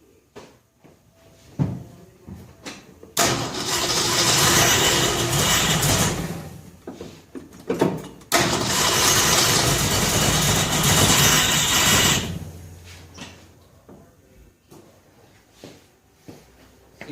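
A rebuilt Ford 302 V8 in a 1966 F100 shop truck cranks on its starter in two long, loud bursts of several seconds each, separated by short pauses, with clicks and shop noise before and after.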